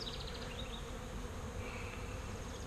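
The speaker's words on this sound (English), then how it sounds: "I got bees in all my frames" Steady, dense buzzing of many honey bees close by in a hive, a continuous droning hum with no talking.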